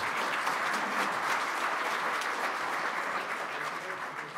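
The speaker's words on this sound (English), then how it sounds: "Let's give him a round of applause." A room of Rotary Club members applauds steadily for past president Chuck Wilson as he stands, dense clapping holding at an even level throughout with no voices above it.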